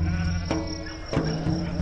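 Sheep bleat close by at a shepherds' watering point in Morocco, with guard dogs around, giving a few wavering calls across a couple of seconds.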